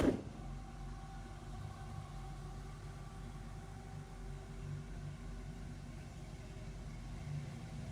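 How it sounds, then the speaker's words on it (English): A 1963 Chevy C10 pickup truck idles with the air conditioning on and its electric cooling fan running, giving a steady, low mechanical hum and rumble close by with no voices. "You can hear the electric fan kick in when the AC kicks in."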